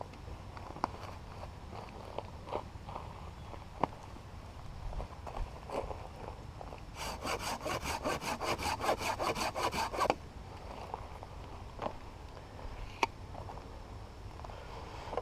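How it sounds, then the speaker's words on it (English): A hand saw cuts through wood for wigwam stakes outdoors, with scattered strokes at first and then a quick run of rhythmic back-and-forth rasping strokes in the middle, close and clear. "basically what I'm going to do is cut almost the length of this saw"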